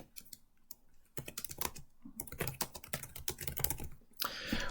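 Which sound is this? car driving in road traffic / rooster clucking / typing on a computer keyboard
typing on a computer keyboard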